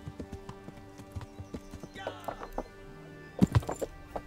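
Hooves clopping steadily as a horse gallops in the video game Kingdom Come: Deliverance, with a few heavier thuds near the end and game voices talking underneath.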